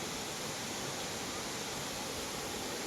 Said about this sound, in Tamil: அதாவது ரிஷிகேஷ்க்கும் சிவபூரிக்கும் நடுவில் இருக்கின்ற ஒரு அற்புதமான நீர்வீழ்ச்சி